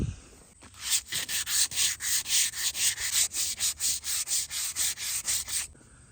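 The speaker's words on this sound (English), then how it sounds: "I got some 150 grit. I'm just gonna sand it smooth." Old worn wooden table sanded by hand with 150 grit sandpaper, a steady rhythm of about twenty close rasping back-and-forth strokes with no talk.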